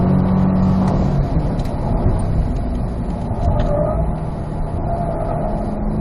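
A C8 Corvette on a race track, its engine a constant loud drone from inside the cabin, holding steady throughout with faint background noise and no speech.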